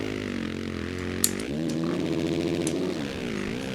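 Motocross bike engine revving in MX vs. ATV All Out, a Pro MX 450 Nationals race, with a steady buzzing drone that shifts pitch and climbs through repeated throttle blips, loud and close.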